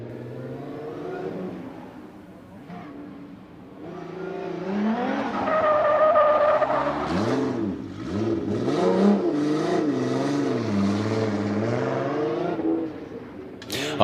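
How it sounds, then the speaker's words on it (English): A race car accelerates hard through the final turn during qualifying in Orlando, its engine rising and falling in pitch as it revs, with tire squeal, loud and fairly close, under a commentator's voice. "And then around the final turn here, good throttle all the way through is Dean Carney"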